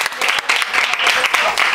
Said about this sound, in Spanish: Sonia, el aplauso. Muy bien.